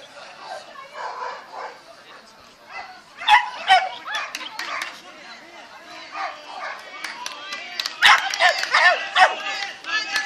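A dog yips and barks in short bursts amid whimpers, while people talk nearby over the noise.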